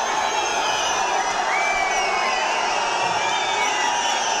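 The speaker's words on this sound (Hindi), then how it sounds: "ये देखिए लोगों की भीड़" A large crowd of protesters at a street rally against illegal mosques shouts and yells in a dense, continuous roar that stays loud and unbroken throughout.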